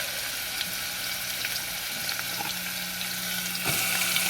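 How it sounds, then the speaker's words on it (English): Chopped onions land in a hot pan with garlic and sizzle as a steady, close hiss of frying, with a few faint clinks and scrapes over the constant crackle. "I'm going to throw the onions in there."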